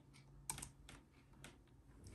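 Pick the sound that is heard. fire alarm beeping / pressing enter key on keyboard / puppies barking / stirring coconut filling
pressing enter key on keyboard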